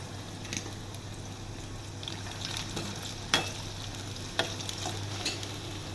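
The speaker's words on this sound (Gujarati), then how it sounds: "એકદમ થોડું ક્રિસ્પી થાય ત્યાં સુધી આને ફ્રાય કરી લેવાનો" Okra (bhindi) frying until crispy gives a quiet, steady sizzle with a few sharp spatula taps and clinks against the pan.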